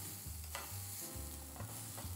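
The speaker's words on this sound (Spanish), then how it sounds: "Y ya casi acabamos de torear nuestros chiles." Chiles and onion fry in a hot pan with garlic, a steady close sizzle broken by stirring scrapes, no voices.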